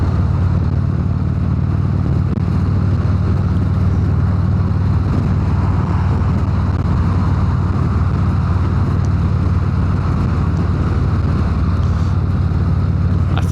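Harley-Davidson Road Glide cruising, a continuous deep exhaust rumble with heavy wind rush, steady and loud throughout without pauses.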